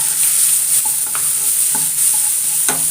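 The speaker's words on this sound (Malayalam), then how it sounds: "കടുക് പൊട്ടിയതിന് ശേഷം ചെറിയ ഉള്ളി, വറ്റൽമുളക്, 2 അല്ലി വെളുത്തുള്ളി ചതച്ചത് നമുക്ക് ഇതിലേക്ക് ഇട്ട് കൊടുക്കാം" Small onions, dried chillies and crushed garlic crackle in hot oil after mustard seeds have popped, a steady bright hiss with occasional soft spatula taps and pops, close and even throughout.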